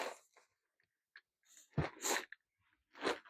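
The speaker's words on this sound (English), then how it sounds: "Whoop, sneeze." A single sudden human sneeze bursts out near the mic in a quiet workshop while building a mini crosscut sled for a small table saw, followed by brief breathy sounds and a quieter second burst.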